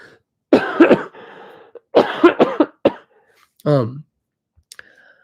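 A few harsh coughs close by, in separate bursts with short pauses between, followed by a throaty clearing sound.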